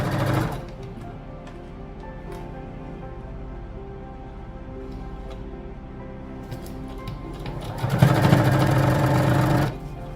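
A sewing machine stitches lace onto a canvas neckline, running slowly in two loud, close bursts, a brief one at the start and a longer run of almost two seconds near the end, with a steady low hum between.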